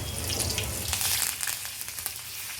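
Finely chopped garlic and curry leaves frying in hot oil with asafoetida, a loud, dense close-up sizzle with scattered crackles and pops, no voices.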